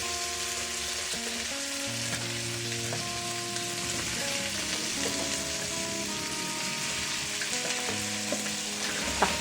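Milkfish pieces returned to a hot pan with crushed tomatoes sizzle and fry steadily, a continuous crackling hiss with occasional stirring scrapes, close and alone without talking, while other tonal sounds play faintly behind.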